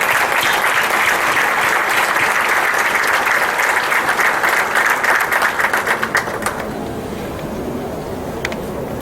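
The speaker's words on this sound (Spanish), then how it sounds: "les pido recibamos con un aplauso a nuestro compañero Gustavo Segura." Audience applause welcoming Gustavo Segura to the stage at a Data Protection Day event, a steady dense clapping that thins out and fades into room quiet toward the end.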